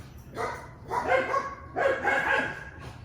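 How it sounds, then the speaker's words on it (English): Several dogs bark next door in repeated bursts at a moderate distance, yapping in clusters with short pauses between rounds. "the dogs started barking next door, which they won't stop"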